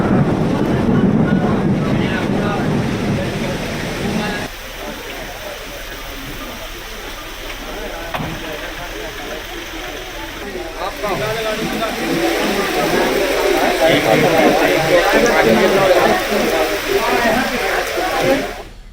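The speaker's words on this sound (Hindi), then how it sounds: "तेज हवा के साथ टीकमगढ़ में झमाझम बारिश।" Heavy rain with strong wind in Tikamgarh, India, makes a constant rushing roar mixed with gusty buffeting. It swells and dips over the span, and a voice can be heard speaking over it.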